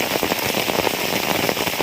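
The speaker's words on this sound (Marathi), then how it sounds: "आमच्या घरावरती जी पावसं पावसाची थेंब पडतात" Rain patters on a house roof in Guhagar, Konkan: a dense, even drumming of drops, loud and close, with no voices.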